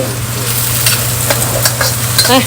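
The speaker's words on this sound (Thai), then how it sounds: "มาดูคนโคราชจะผัดหมี่นะคะ" Korat-style rice noodles are stir-fried in a heavily burnt wok, with a loud steady sizzle, a low burner hum and intermittent scraping and tossing strokes, heard without talk.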